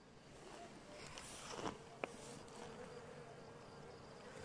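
A faint, steady buzz of bees at a hive hums in the background, with a couple of soft, brief knocks nearby.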